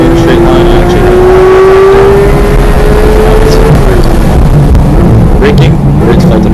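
A Porsche GT3 engine on the Buttonwillow Raceway circuit climbs in a loud, sustained rev before the pitch falls away on a downshift, with heavy wind and road roar throughout and a voice talking over it.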